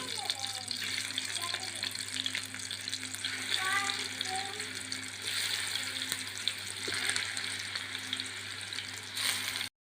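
Masala-coated chicken fries in butter in a pan with a steady bright sizzle. Small pops and spatters break through it now and then, and a voice talks faintly beneath the sizzle.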